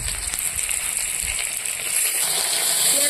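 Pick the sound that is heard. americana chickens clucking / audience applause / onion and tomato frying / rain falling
onion and tomato frying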